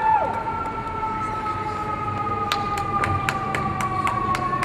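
A siren passes outside during an Emory University law school commencement ceremony, its steady wailing tone holding throughout, joined later by a run of sharp regular clicks.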